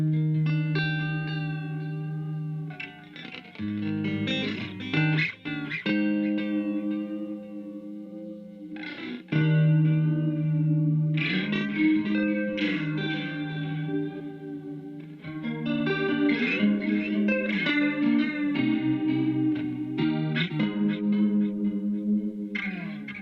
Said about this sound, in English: this clean sound is just phenomenal in my opinion.